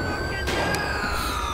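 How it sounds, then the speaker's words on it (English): Police sirens in the LSPDFR mod for GTA V, a steady wailing tone from vehicles at a moderate distance, continuous across the short moment. "I do hear other sirens"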